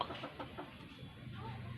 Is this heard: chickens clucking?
yes